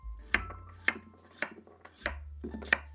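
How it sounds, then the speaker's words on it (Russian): A knife slices potatoes into rounds about half a centimetre thick in sharp, regular strokes on a cutting board, about five cuts with soft scraping between them, close and clear. "Картофель режу кружочками."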